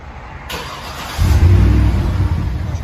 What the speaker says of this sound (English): So here's what the 18-inch Magnaflow will sound like.